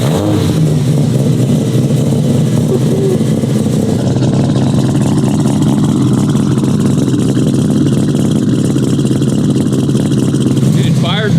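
Straight-piped Mazda RX7 rotary engine, an early turbo model, rumbling loud and close with steady revving that swells and dips, voices talking over the engine noise.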